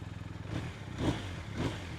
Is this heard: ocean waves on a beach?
no